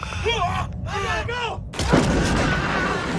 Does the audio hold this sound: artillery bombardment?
yes